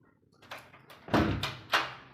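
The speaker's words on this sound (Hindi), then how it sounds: "तो देखिए, ये दरवाज़ा इस तरह से खोलते थे" A door in a small house being opened on a windy day, giving a few short scraping and rattling bursts at close range, the loudest near the middle, with no talk.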